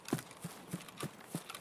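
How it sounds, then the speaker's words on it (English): Footsteps of a player character walking in Escape from Tarkov, five evenly spaced, fairly faint thuds at a steady walking pace with nothing else around them. "listen to how loud my footsteps are"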